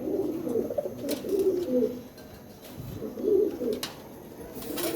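A Nazra Kaldom pigeon, a fresh female, makes soft low cooing phrases in several rounded bursts, fairly faint against a quiet market background with occasional clicks and no speech.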